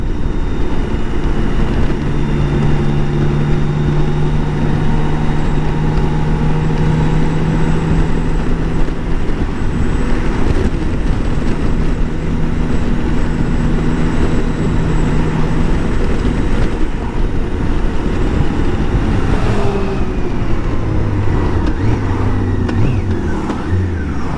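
A BMW K1600 GTL motorcycle hums steadily while riding on the road, its smooth engine tone rising and falling with gear changes under constant wind rush, with the pitch shifting as it accelerates near the end.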